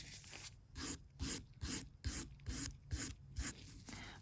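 Fake nails being filed off with a hand nail file, a steady back-and-forth rasping in about ten even strokes, close and fairly quiet with no voices.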